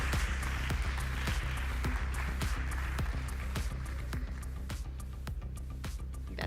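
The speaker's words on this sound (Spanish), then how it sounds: "Un fuerte aplauso para él." A conference audience applauds a guest physicist as he is welcomed, giving a sustained, even wash of many hands clapping that carries on steadily with a slight fade near the end.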